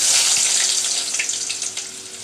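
Chopped onion sizzles steadily in hot oil in a pan while a Malabar spinach dish with lentils and potato is cooked, a close, continuous frying hiss that eases slightly toward the end.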